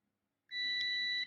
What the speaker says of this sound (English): you can just listen for the beep and you know that the 2 points are connected